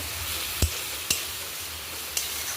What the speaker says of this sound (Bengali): এবার আমি দেবো রসুন আদা লঙ্কা পেস্ট এবার খুব ভালো করে একটু কষাতে হবে